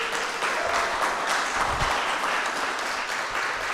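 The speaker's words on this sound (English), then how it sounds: "Can we just give Leila another round of applause?" An audience at a San Francisco arts event applauds a performer with steady, dense clapping that fills the room for about four seconds before it starts to thin.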